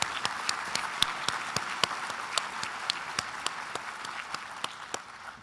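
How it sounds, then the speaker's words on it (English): Conference audience at a water summit applauds corporate and foundation partners, a dense, steady round of clapping with a few sharper, louder claps standing out, fading slightly toward the end. "could you all give a round of applause to our corporate and foundation partners?"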